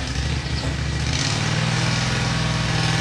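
A lawn mower engine drones steadily nearby, loud and continuous, with a shift in pitch partway through, heard from a woodworking workshop with no talk over it.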